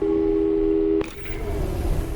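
Portal 2 telephone: a steady dial tone holds for about a second, then a sharp click cuts it off and leaves a fainter hum with a brief electronic tone, loud and close.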